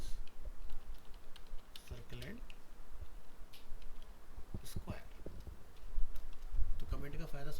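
Computer keyboard typing heard as soft, scattered key clicks in short runs beneath someone talking steadily nearby.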